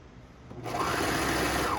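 A sewing machine stitches a seam in bamboo fabric for a maxi dress. A steady, close, continuous motor whir and needle rattle starts after a brief quieter moment and runs alone.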